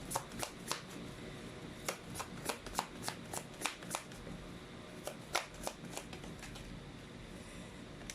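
Tarot cards being shuffled and pulled, a run of crisp riffling snaps and flicks close by, irregular bursts spread across the stretch with no voice.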